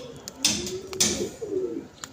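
A male pigeon coos softly nearby, a low throaty repeated call with a few light clicks in the background.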